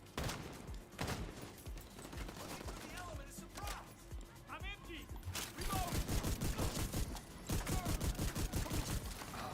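Shotgun and other weapons fire in The Division 2, heard as dense rapid volleys of gunshots, heavier toward the end, with brief in-game voice snippets mixed in.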